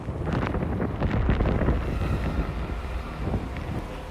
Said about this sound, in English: Wind gusts are probably near 150, 160 here would be my guess.